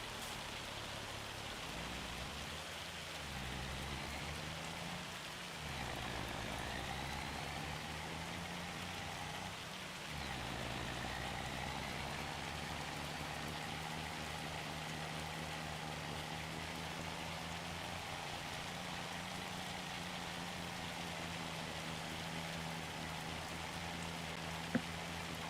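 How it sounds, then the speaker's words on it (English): Hail in the video game Farming Simulator 25 pours down as a steady, dense hiss of pattering impacts that continues unbroken for the whole stretch, with a low engine-like hum underneath. "Oh, that's not snow, that's hail."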